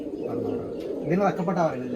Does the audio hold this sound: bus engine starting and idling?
no